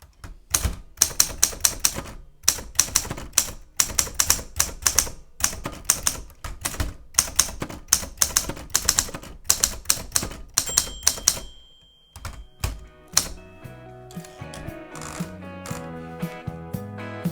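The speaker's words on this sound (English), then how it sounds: "for anyone who wants to get into typewriting or plays with typewriters" Rapid, uneven clacking of typewriter keys struck one after another for several seconds, ending with a pause and lighter mechanical clicks and rattles.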